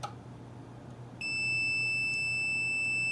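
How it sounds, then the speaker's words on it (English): A multimeter set to continuity emits a steady, loud, high electronic beep that begins partway through and holds unbroken to the end, with no talking. The meter is probing the wiring of a 12 V off-grid inverter's GFCI outlet. "If we take our multimeter and we put it on continuity"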